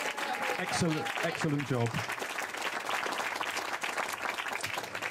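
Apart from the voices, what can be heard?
wedding guests applauding the washer-uppers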